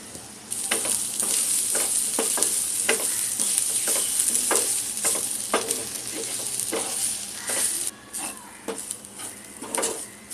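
Chopped onion and dry coconut roast in a pan with a little oil, giving a steady bright sizzle with repeated scraping stirs and light clinks of the utensil against the pan throughout.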